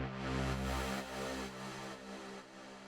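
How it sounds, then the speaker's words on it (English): Swell effect from a remix pack rises as a sustained, dense wash of tone with a deep low end, fading slightly and thinning out over a few seconds, with no voices. "There's a great swell that goes like this."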